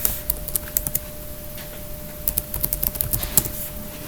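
Typing on a computer keyboard, with quick bursts of close, crisp key clicks separated by a pause in the middle, set over a quiet steady hum.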